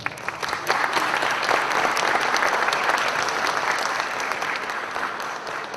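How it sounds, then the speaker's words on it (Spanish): Dense, sustained applause from an audience welcoming a speaker at a public forum on public spaces in Lima Sur, steady and full for several seconds, then easing slightly toward the end with no talk over it. "es el señor José Vargas Villa, quien pido recibir con un fuerte voto de aplausos"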